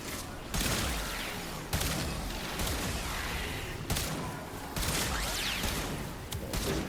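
Kuva Chakkhurr shots in the video game Warframe, a series of heavy, booming blasts repeating roughly every second, each with a loud, sharp onset and a dense rumbling tail, close and dominant.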